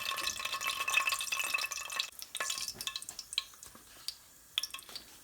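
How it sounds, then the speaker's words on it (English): Whole spices crackle and sizzle softly in oil in a pan, with scattered pops and a light stirring scrape, fading to sparse crackles toward the end. "just wait for that to sizzle up a little bit"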